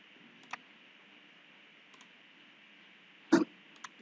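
A computer mouse gives a few sharp, quiet clicks, scattered singly and in a quick cluster near the end, over faint steady hum.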